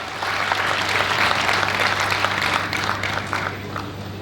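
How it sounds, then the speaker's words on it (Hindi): Crowd at a Hindi poetry recital by poet Sanjay Jhala breaks into sustained applause, dense even clapping from many hands holding steady throughout over a low steady hum. "अगर आपका मन कर रहा है तो जरा एक बार तालियां बजाकर मुझे बता दें"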